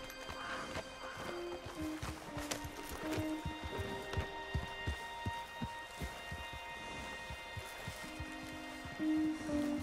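Horse hooves clip-clop in a steady walking rhythm in a video game, moderately close, over soft sustained musical tones and a faint patter like light rain.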